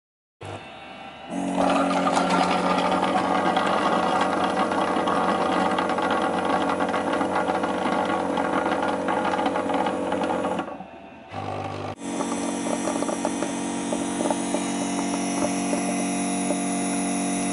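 A robot vacuum-mop's docking station runs its self-cleaning cycle on the two mop pads, giving a steady, loud mechanical whirring and grinding with ratcheting texture, a brief dip near the end, then resuming.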